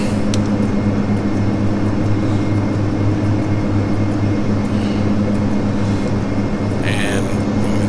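Majestic Q400 turboprop climbing after takeoff in the FSX flight game, a constant loud droning propeller and engine roar with steady hum, while a voice speaks over it in short callouts.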